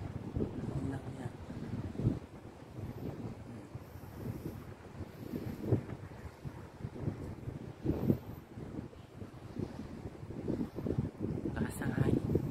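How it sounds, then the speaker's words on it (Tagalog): Strong wind blows by the sea among palm trees, buffeting the microphone in low, uneven gusts, with people talking quietly underneath. "Lakas ang hangin."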